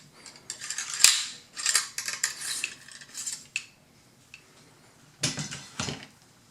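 A cleaning rod with a .22 cal patch pushed down an AK rifle barrel after corrosive ammo use, giving bursts of close metallic scraping and rattling strokes with short pauses between them, no talking.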